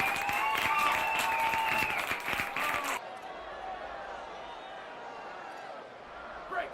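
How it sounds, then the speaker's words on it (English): Applause on a sports gaming livestream, a loud burst of clapping with bright tonal layers over it for about three seconds, then dropping to a softer, thinner wash. "Give Pete a round of applause."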